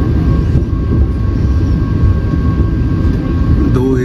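A Vande Bharat Express running past the Porbandar–Delhi Sarai Rohilla Express at Phulera Junction: a loud, steady rolling roar of wheels and rushing air fills the whole stretch, with a faint whine rising briefly near the end.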